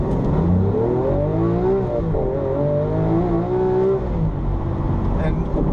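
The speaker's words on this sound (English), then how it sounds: "the noise is just addictive, whether you're going up through the gearbox or down." A 2014 Lamborghini Aventador LP 700-4 engine revving hard through its gears, loud and close, its pitch climbing and dropping with each shift under a continuous roar.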